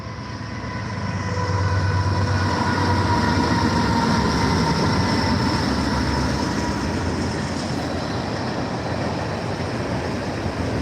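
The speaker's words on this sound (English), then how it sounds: "that was the 666 train" A train rumbles past nearby, the heavy roar swelling after a second and holding steady with rail noise and faint squeal, no voices.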